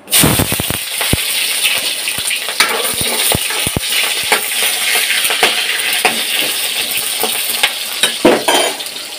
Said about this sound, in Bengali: এখানে দিচ্ছি আমি কড়াইতে পেঁয়াজ